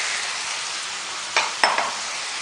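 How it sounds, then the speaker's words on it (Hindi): Onions frying in oil on a flat iron tawa give a steady, close broadband sizzle, and two short scraping stirs of a spoon break through near the end. "प्याज डाल दें और इसको फ्राई करते हैं।"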